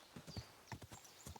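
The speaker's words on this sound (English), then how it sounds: "Oh no, this is somebody on a horse. A noble." Horse hooves clip-clop at a walking pace in Kingdom Come Deliverance 2 as a mounted noble rides past on a road, several soft, distinct hoof falls in an uneven rhythm, fairly faint and heard alone.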